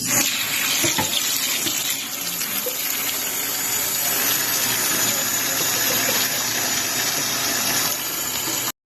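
Tap water runs steadily into a sink while cabbage is washed for coleslaw, a continuous close splashing rush with small fluctuations as the leaves are handled, ending abruptly.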